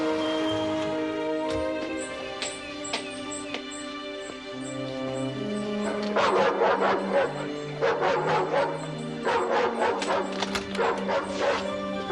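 An electronic guard dog gadget meant to scare off burglars sounds off with repeated barking, loud and close over a background of music.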